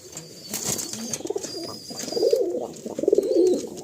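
Andhra pigeons in a well-kept loft in Kolkata coo in soft, repeated throaty bursts close by, several rolling calls overlapping with brief flutters and rustles between them.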